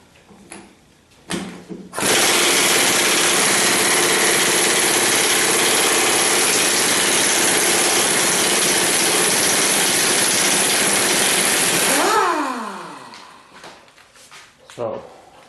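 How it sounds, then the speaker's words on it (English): An air impact wrench rattles continuously for about ten seconds on the strut rod nut of a 1976 Corvette, loud and steady, then spins down, with brief clicks and handling noises before and after. "let's see now that it's broken loose whether the impact wrench will handle it"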